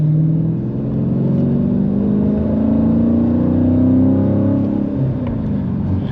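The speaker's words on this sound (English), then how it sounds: "let's go ahead and give a little bit of gas here." A 2023 Dodge Challenger with a 6.4L Hemi and six-speed manual accelerates in hot weather, giving a loud, steady engine drone and rumble from inside the cabin whose pitch slowly climbs and then eases.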